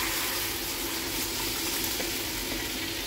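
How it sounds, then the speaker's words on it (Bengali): Lentils poured into hot tempering oil in a home kitchen give off a steady, loud, dense sizzle, an even frying hiss that lasts throughout with no voices. "এখন আমি ডালটা ঢেলে দেবো এর মধ্যে"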